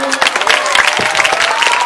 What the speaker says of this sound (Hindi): तालियां कमजोर है उनके सम्मान में।